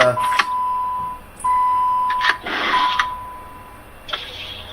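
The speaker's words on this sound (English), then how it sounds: "Was that beeping on your end or outside or over here?" Several short electronic beeps sound at irregular intervals, some with a steady tone, over faint background noise.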